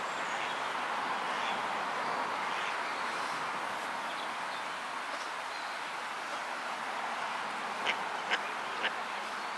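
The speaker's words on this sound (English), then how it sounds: "Mallard ducks. I don't think they've long been here" Young mallard ducklings call from the water in soft, continuous quacking and peeping, with a steady broadband outdoor hiss behind them and a few brief sharper calls near the end.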